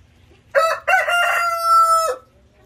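A white rooster crows nearby, one loud clear call with two short opening bursts followed by a long sustained note that cuts off sharply, set against a quiet background.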